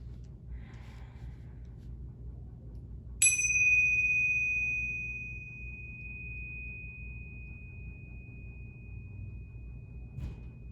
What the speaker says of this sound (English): listen to all the different sounds of the bell as it gets quieter